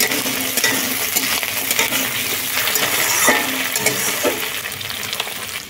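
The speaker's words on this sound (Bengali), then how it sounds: "পেঁয়াজের সঙ্গে কাঁকড়া কিছুক্ষণ ভেজে নিয়ে" Crab pieces frying with chopped onion in a pan, a continuous dense sizzle with scattered stirring scrapes and clinks, close and steady for several seconds with no talking.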